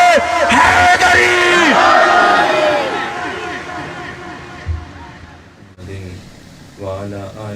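A large crowd at a religious gathering shouts the Nara-e-Haidari slogan together in loud, sustained massed voices. The shouting fades after about four seconds, and a lone voice then speaks over the quieter room.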